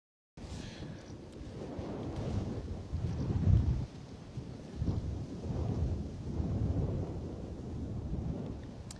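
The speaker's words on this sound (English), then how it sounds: "Wind definitely up and down" Strong wind gusts buffeting an outdoor microphone at Bristol Airport, a continuous low roar that rises and falls in surges, with no speech.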